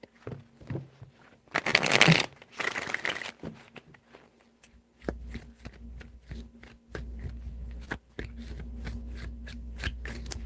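Tarot cards shuffled by hand in several quick bursts of riffling and snapping, close and crisp, with a low steady hum beneath.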